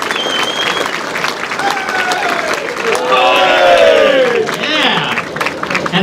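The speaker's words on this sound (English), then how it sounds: "I would like to give a round of applause to the staff of the JDC for doing a wonderful job with our meal tonight." Banquet guests applaud the kitchen staff after a meal at an air force association dinner, steady crowd clapping mixed with overlapping voices and some cheering that swells midway.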